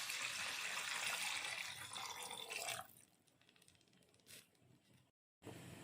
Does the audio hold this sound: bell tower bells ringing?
no